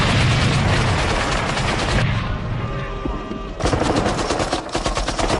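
Heavy automatic gunfire in the Vietnam war film Full Metal Jacket, loud dense bursts that rattle continuously, briefly thin out, then resume at full intensity.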